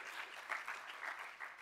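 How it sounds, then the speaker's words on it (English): Audience applause at a health summit session: dense, steady clapping from a crowd, moderately faint and continuous, with no talking over it. "We can all give him a big clap for that."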